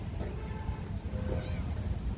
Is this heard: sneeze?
no